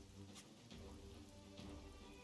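Steady rain falls throughout a mission in the tactical game Troubleshooter: Abandoned Children, a continuous wash of drops on surfaces with a low ambient bed and occasional faint swells.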